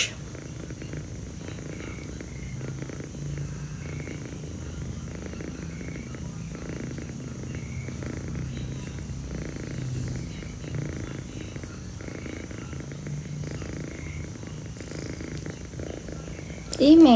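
A cat purrs steadily and close up, a continuous soft rumble that runs nearly the whole time, with voices talking over it.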